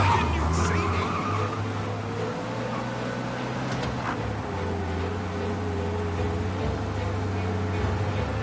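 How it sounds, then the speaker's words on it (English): A car races fast to shake a police pursuit in Mafia: Definitive Edition, its engine droning steadily and loud throughout, with some tire squeal and skidding over the continuous road noise. "You lose them by driving real fast and getting clear of them."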